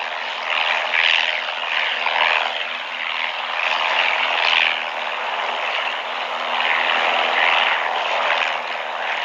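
A light propeller airplane drones steadily overhead above a park, its buzzing engine rising and falling slightly in loudness throughout, with no voices.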